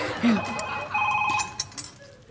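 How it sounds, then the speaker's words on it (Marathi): A mobile phone rings indoors with a short, bright electronic tone pattern, fairly close, while people talk over it in a Marathi comedy sketch. "तुझा फोन वाजतोय"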